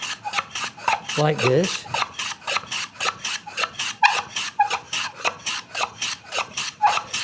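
A hand tool, likely a chisel or rasp, cuts a skewed chamfer across the grain of a wooden edge in steady rhythmic rasping strokes, close and loud, with a few brief spoken words partway through.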